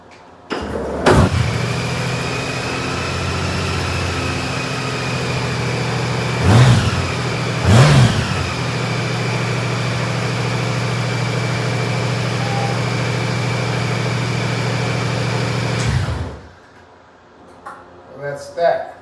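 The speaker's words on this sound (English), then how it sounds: "And now the 2018 Honda Goldwing Tour manual transmission." A 2018 Honda Goldwing Tour motorcycle with manual transmission starts up, then runs at a steady close idle with two short throttle blips before cutting off, followed by a few faint knocks.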